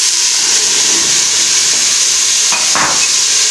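Tomato paste hitting golden-fried onions in a pot of degi-style aloo gosht, a loud, dense, continuous sizzle with a brief stirring scrape near the end, close and free of talk.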